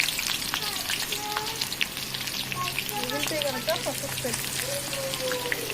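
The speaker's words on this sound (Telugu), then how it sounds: "మిగిలిన ఆనియన్స్ కూడా వేసేసి ఫ్రై చేసుకొని" Onions frying in a pan for chicken dum biryani give a steady, dense sizzle that stays close and even throughout, with faint stirring clicks over it.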